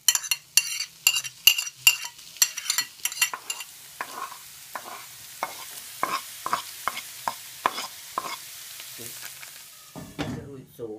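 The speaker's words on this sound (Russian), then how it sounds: "сковорода с маслом нагрелась. Я кладу морковь" Sliced carrot and onion go into a hot pan with oil and are stirred, sharp scraping and clinking strokes over a soft, steady sizzle that swells near the end.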